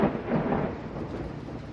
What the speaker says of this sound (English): That was a pretty close lightning strike.